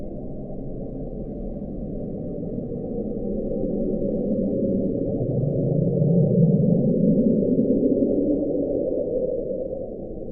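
The Bloop, the mysterious 1997 equatorial Pacific hydrophone recording, at original speed: a deep, muffled underwater drone that slowly swells into a rising sweep around the middle, then fades back over about ten seconds.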